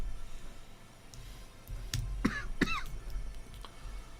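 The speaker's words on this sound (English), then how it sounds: "Excuse me for the cough." One person coughs twice in quick succession, a sharp, close cough over a quiet indoor background hum, with no speech.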